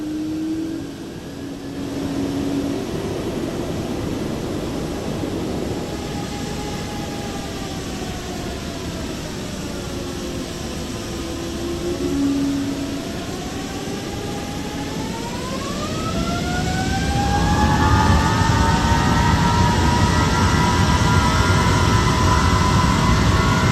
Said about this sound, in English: they have a really fun sort of whir and a metallic roar once they get up to full power